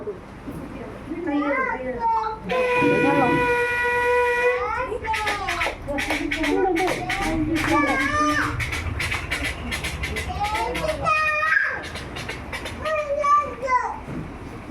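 A person imitates a steam train with their voice: a whistle-like tone, then rhythmic chugging puffs that speed up, with more whistling toward the end.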